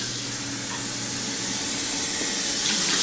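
Water runs steadily into a cooking pot as cups are measured in for boiling rice, a continuous soft hissing pour at close range with no speech over it.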